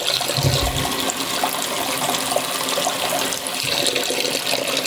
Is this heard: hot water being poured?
yes